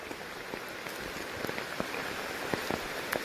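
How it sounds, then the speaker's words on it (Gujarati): Heavy rain pours down outdoors, a steady soft hiss with scattered louder drops pattering nearby, fairly faint and without talk. "અત્યારે ધોધમાર વરસાદ પડે છે અને આપણી પાસે છત્રી પણ છે નહીં"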